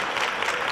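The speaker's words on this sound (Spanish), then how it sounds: "Un aplauso para el gran Pepe Marín" Brief burst of audience clapping at a Spanish program presenting a flamenco book, a dense even patter of many hands, fairly loud and close.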